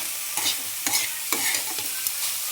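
A spoon or spatula stirs grated carrot and coconut curry in a hot pan, soft scraping strokes over a steady sizzle, up close and with no voices.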